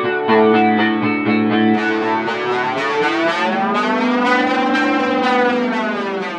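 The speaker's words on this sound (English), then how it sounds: "give me some more distortion" Electric guitar played through a TC vintage distortion effect in a studio, sustained harmonically rich distorted tones with a swelling, spacey, siren-like sweep, loud and continuous with no talking.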